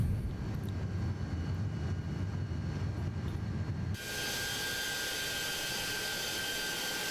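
Steady engine and airflow roar of an Inibuilds Airbus A330 airliner in Microsoft Flight Simulator 2024, a continuous broadband drone that abruptly shifts to a brighter, hissier tone partway through, with a faint high whine.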